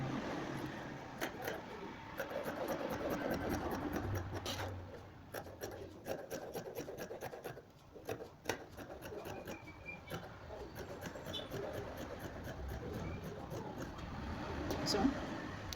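Scissors cut through trouser fabric in a tailoring setting, a close, dry rasping and scraping with irregular snips and rustles, over soft background voices and room noise.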